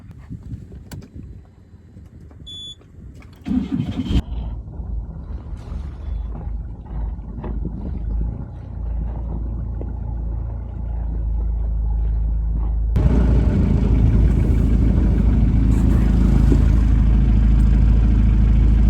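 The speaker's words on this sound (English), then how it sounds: "So we're gonna fire up, take the boat out and let it heat up" A boat engine turns over and catches, then settles into a steady, loud idle that rises into a heavier rumble, with no voices.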